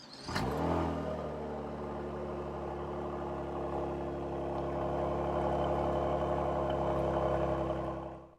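A Stinger car engine cranks over and fires, then settles into a steady, loud idle that continues without a break, with no one talking.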